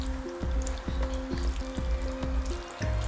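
Water is poured from a ladle over beans simmering in a pot for a bean stew, with a soft, steady pouring and trickling close by and faint rhythmic clicks of a spoon against the pot.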